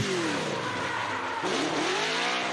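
Formula Drift race car in a competition drift, tires squealing loudly with a rising and falling engine note, continuous and close for a couple of seconds.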